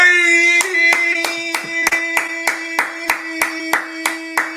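A steady run of single claps at a summit performance, evenly paced and fairly close, over a sustained musical tone, with a few voices faintly audible.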